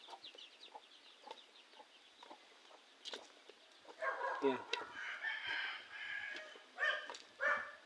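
Chickens at a backyard Filipino farm cluck and a rooster crows several times at moderate distance, with louder bursts of crowing and clucking in the second half and someone speaking briefly early on.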